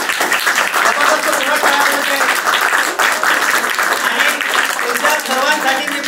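Sustained applause from an audience in a club hall event, many hands clapping loudly and densely throughout, with a voice speaking over it.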